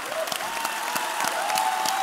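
An audience at a convention stage event applauds an orchestra after its performance, a dense, sustained clapping from a sizable crowd, steady and fairly close.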